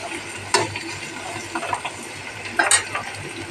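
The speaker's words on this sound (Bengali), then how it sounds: "এবার দেখো আমি কলাগুলি ঢেলে দিলাম। এবারে আমি এটাকে ভাজতে থাকবো।" Green banana slices fry in oil with black cumin, giving a steady close sizzle with two sharper clattering bursts as they hit the pan, and no voices.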